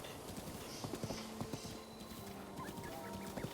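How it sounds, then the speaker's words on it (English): Horse hooves clip-clopping in Zelda: Breath of the Wild, a quiet run of irregular hoof clops at moderate distance, with faint bird-like calls in the background. "Whoa, horse, a horse, where are you going?"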